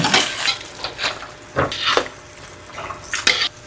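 Beef caldereta with fish sauce and bay leaves stirred in a pot, clinking and scraping strokes over a bubbling sizzle, close and continuous.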